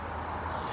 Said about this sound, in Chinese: 还能听见蛐蛐的声音